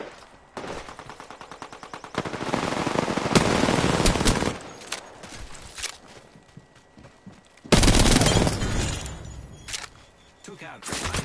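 Rapid automatic gunfire in a battle-royale-style shooter game, bursts of loud shots with a long sustained volley near the start and another heavy burst later, mixed with game effects and someone talking over it.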